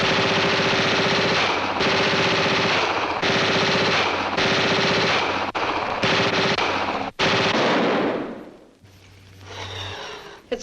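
Machine gun sound effect in an old Superman radio drama, with long loud bursts of rapid fire broken by brief pauses, then a final burst that cuts off into quiet.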